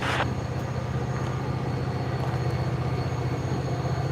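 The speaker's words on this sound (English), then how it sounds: "I hear our switcher coming this way again." A remote-controlled switcher locomotive moves through a rail yard with a loud, continuous low diesel rumble and rolling rail noise nearby. A brief hiss sounds at the start.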